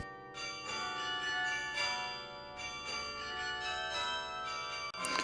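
Carillon bells of Tourcoing, 61 of 62 bells played from a console, ringing in a dense overlapping peal with repeated strikes and long sustained resonant tones throughout, heard close and alone.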